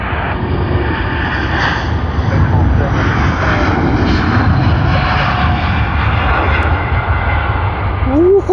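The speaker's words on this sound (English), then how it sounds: "LA810, the Boeing 787-9 of LATAM Airlines to Santiago," A LATAM Airlines Boeing 787-9 jet bound for Santiago, Chile produces a loud, steady broadband engine roar that holds throughout at an airport, with faint voices talking underneath.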